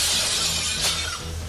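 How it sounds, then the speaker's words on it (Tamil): Glass doors at a massage centre shatter during a scuffle, a loud crash of breaking glass with a sharp burst of tinkling fragments partway through, close by, with no talking. "மசாஜ் சென்டரின் கண்ணாடி கதவுகள் சுக்குநூறாக"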